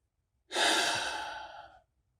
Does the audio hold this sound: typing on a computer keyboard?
no